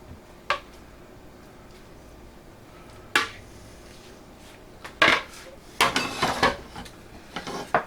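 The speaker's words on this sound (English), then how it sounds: "And I'll just give that a little easy stir." A spoon stirs pot roast with potatoes and carrots in broth inside a crock pot, giving a few scattered clinks and scrapes against the ceramic pot, loudest near the end, with quiet gaps between.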